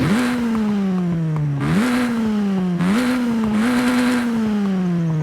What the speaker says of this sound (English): let's go ahead and hear the car in its stock form